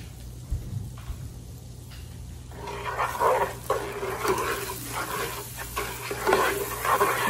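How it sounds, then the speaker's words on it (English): Semolina roasting in ghee in a pan, with a steady soft sizzle and scraping stir strokes that grow busier after the first few seconds, close and moderately loud. "Now when we're roasting our semolina, this is the time we're gonna be able to tell if we need to add any more butter or ghee"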